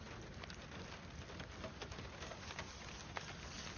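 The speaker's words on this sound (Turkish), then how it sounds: "Etrafımız şu anda görüyorsunuz yağmur yağıyor." Steady rain pours down outdoors near beehives in Bursa, a dense, even hiss of drops pattering on surfaces with a few sharper splats, continuous and fairly close throughout.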